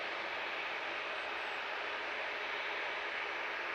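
A white and red Jet2 jet airliner taxis at Manchester Airport, a steady broad engine whine and rush held at a distance without change, with no voices over it.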